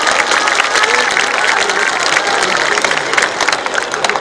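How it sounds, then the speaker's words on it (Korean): An audience at the opening ceremony of the Icheon Ceramics Festival claps warmly, a steady broad patter of many hands with some crowd noise and cheering mixed in. "여러분 모두를 위해서 뜨거운 박수 같이 한번 부탁드리겠습니다."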